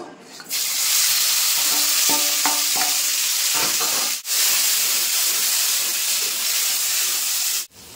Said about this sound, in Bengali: এখন যে কাঁঠালের বিচিগুলো যে আমি সেদ্ধ করে রেখেছিলাম, এটাও কিন্তু তেলের ভিতর দিয়ে একটু নেড়ে নেব